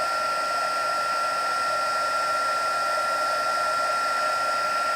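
A heat embossing tool blows hot air steadily on a card-making project, a constant close whirring hiss with a high whine and no break or talk.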